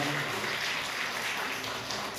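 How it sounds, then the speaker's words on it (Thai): Audience applause at a talk or seminar, a steady dense wash of clapping that holds at an even level throughout. "ขอเสียงปรบมือนะครับ"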